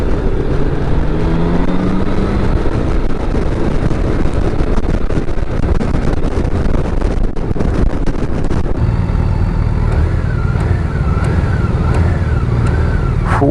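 A 2024 BMW K1600GT six-cylinder engine pulls strongly under acceleration, a smooth, turbine-like drone rising in pitch over heavy wind rush, loud and continuous throughout.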